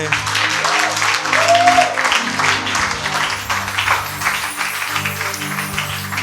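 Audience applause breaking out at a French-language talk or stage event, a steady wash of clapping from a crowd that holds for several seconds, fairly close and full, with a low musical hum underneath.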